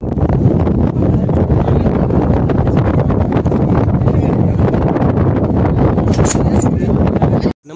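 Strong wind roars steadily across the microphone at the Kalsubai summit temple during a solo night trek, a loud continuous buffeting rush that cuts off abruptly at the end.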